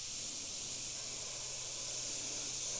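Gaahleri Mobius 0.3mm airbrush spraying, a steady faint airy hiss held continuously throughout, with no speech.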